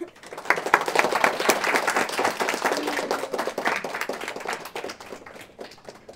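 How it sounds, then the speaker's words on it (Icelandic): Clapping from a small group after a thank-you at a community neighbourhood-planning talk, a dense run of sharp hand claps that swells quickly and carries on steadily for several seconds before thinning slightly, with no talk over it. "Má ég klappa?"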